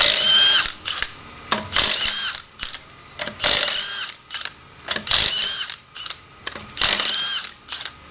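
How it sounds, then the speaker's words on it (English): Power tool with an oversized socket spinning corroded lug nuts off a Kia Soul wheel, a series of loud, close, short bursts of high whirring and clattering, separated by brief pauses, with no talk. "So these lug nuts are swollen from corrosion, so I use a little bit bigger socket to remove them"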